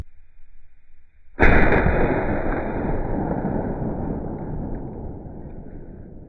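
A .50 BMG rifle fires once outdoors, a sudden sharp, very loud blast after a quiet moment, followed by a long rumbling echo that slowly fades over several seconds.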